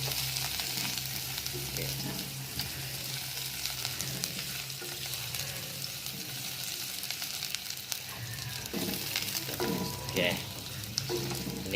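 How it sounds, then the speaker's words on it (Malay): Garlic and ginger frying in a pan for a prawn soup, a continuous crackling sizzle with scraping stir strokes throughout and a couple of brief spoken words. "Ini kita kacau-kacau dia sampai dia berwarna kekuning-kuningan bawang tu"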